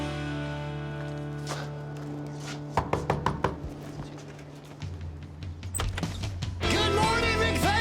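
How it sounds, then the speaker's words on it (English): A series of knocks on a family's front door, sharp separate thuds in a short irregular cluster with some louder handling noise between them, no speech. "So I think I'm gonna just knock on the door."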